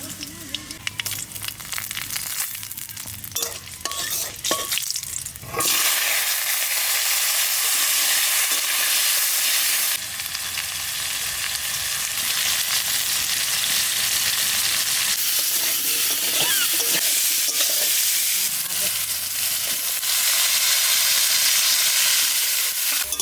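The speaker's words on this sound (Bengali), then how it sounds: "আলু দিয়ে আর কুমড়ো শাকের ডাটাগুলো দিয়ে একটু কষিয়ে নিলাম" Potatoes and pumpkin-green stems fry in a pan, bursting into a loud, dense sizzle and hiss after a stretch of stirring clatter, with brief breaks where the pan is stirred again.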